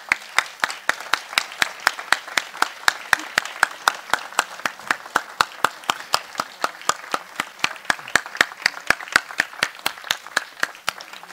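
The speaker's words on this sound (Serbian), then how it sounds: "molim za jedan aplauz veliki bar." Audience applause for a choir at the opening ceremony of a choral festival, steady clapping from a crowd sustained throughout with fairly even, dense claps and no voices over it.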